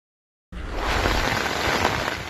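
Heavy downpour on the eastern coast of Crimea, a dense, steady rain roar that starts abruptly after a half-second of silence and holds loud and even throughout.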